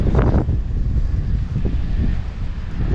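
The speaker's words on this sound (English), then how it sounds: "Since it's really windy, I need to tighten up the tension on this reel." Strong gusty wind buffets the microphone beside a pond, a continuous low roaring rumble with surges, loud and steady throughout with no talking.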